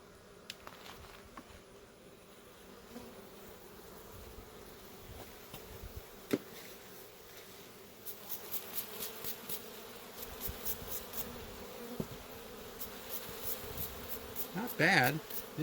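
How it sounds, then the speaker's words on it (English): Honey bees droning steadily in a continuous hum while being brushed off frames from a very large hive, with light brushing and rustling that grows busier toward the end. "Just kind of brush all the bees off."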